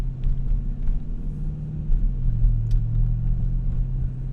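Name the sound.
Dodge Durango V8 with MRT 3-inch exhaust cruising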